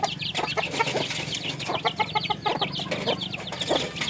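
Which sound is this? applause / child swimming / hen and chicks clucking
hen and chicks clucking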